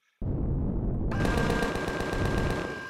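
Rapid automatic gunfire from standard weapons in the space survival game Empyrion, a loud sustained burst of fast repeating shots starting abruptly and running without pause.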